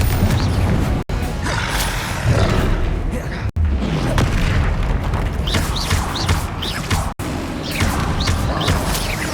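Booming Bombarda explosion spells in the Hogwarts Legacy video game, several heavy blasts amid a dense, loud mix of combat effects, with a voice calling out spell names over the action.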